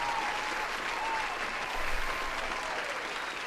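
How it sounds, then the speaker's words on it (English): Dense, steady applause celebrating a winner, a continuous even roar of many hands clapping with no voices over it. "Another round of applause for you."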